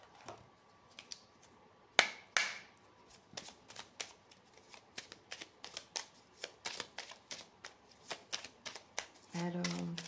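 A deck of colour cards being shuffled and handled up close, a string of crisp riffling flicks and slaps over about ten seconds, with a soft voice murmuring briefly near the end.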